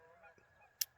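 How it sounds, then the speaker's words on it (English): A single short goose honk rings out at middle distance over a quiet, faint background, brief and sharp. "Forgive the geese. They're talking to us a little bit."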